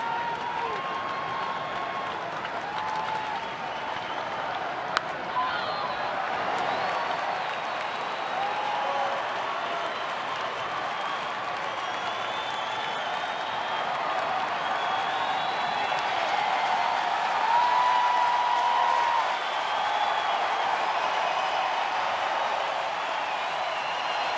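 A paid crowd of about 36,000 at a Braves versus Cubs baseball game at Wrigley Field rumbles with sustained, distant roar and scattered clapping, swelling slightly near the end, with a sharp knock early on.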